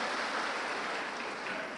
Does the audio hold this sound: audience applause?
yes